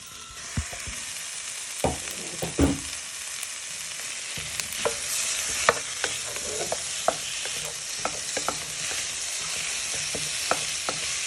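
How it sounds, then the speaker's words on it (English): Lamb pieces fry in a pan with onions and garlic, a steady loud sizzle throughout with scattered clicks and scrapes of stirring over about eleven seconds, no talking. "Now you're going to add in your lamb pieces."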